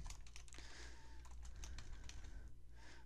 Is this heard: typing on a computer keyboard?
yes